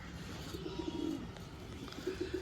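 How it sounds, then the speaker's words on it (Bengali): Two bursts of low, throaty pigeon cooing, one in the middle and another at the end, soft and close in a quiet space. "খুব সুন্দর পায়রা"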